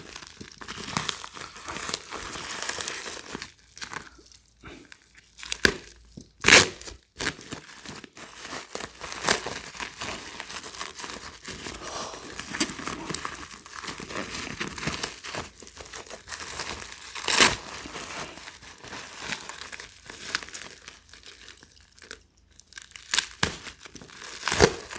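A heavily taped package holding fake Yeezy 451 shoes is unwrapped at close range. Tape tears and plastic crinkles in repeated bursts for a long stretch, with no talking.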